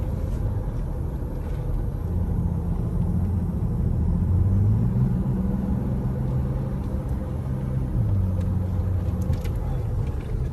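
Toyota Tacoma pickup truck driving downhill on a mountain road, a constant low engine and road rumble heard from inside the cab, with the engine tone shifting up and down as it moves.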